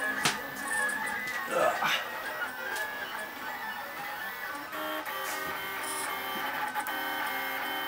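A Lulzbot AO-101 3D printer runs while turned upside down, its stepper motors whining and chirping in shifting tones with small knocks. A person talks over the printing.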